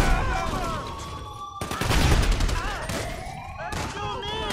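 Rapid bursts of gunfire in GTA 5 with a One Piece mod crackle in dense, loud volleys with brief pauses, layered over game noise and someone talking excitedly.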